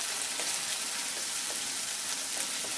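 Tomato, spices and brinjal sizzle and fry in a pan for a Bengali brinjal curry, a steady close crackle with a few soft stirring scrapes and no talking.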